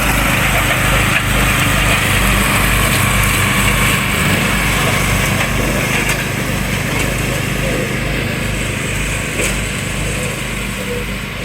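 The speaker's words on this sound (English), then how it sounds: "And now we've had a lot of rain, so Mark is out cutting the grass" A lawn mower drones steadily nearby as it cuts rain-soaked grass in a wooded yard, its engine note holding constant with slight dips.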